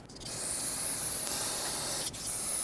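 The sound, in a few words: brake parts cleaner being sprayed on a brake caliper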